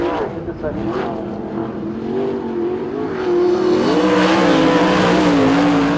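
A winged speedway race car at Invercargill drives on track, its engine a loud sustained rising and falling roar that climbs in pitch as it accelerates, with an announcer talking over it.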